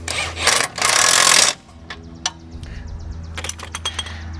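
A wrench ratchets a bolt tight on a Hyundai Palisade rear shock absorber, with a loud steady burst of clicking in the first second and a half, then faint metallic ticks and clinks close by.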